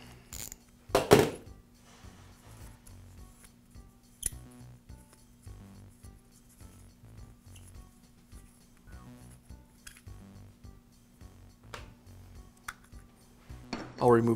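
Removing the float bowl from a Briggs & Stratton small-engine carburetor: a few sharp metallic clicks and clinks of parts and tools, close but mostly quiet, with sparse handling noise between them.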